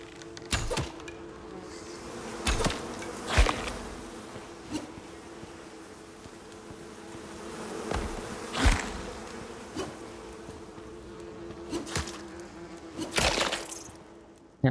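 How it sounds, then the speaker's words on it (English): Bees buzz around their nest in the Icarus survival video game, a steady insect drone broken by repeated sharp whooshing swipes and thunks at close range. "I hear more bees."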